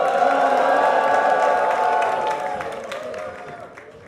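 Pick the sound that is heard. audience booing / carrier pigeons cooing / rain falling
audience booing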